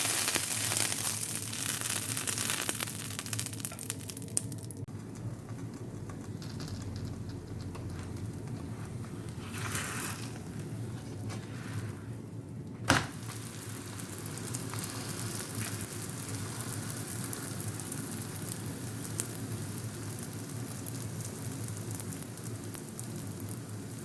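Msemen flatbread sizzles in a hot, ordinary frying pan, a steady crackling hiss like rain that runs the full length at low volume, with one sharp click or tap partway through.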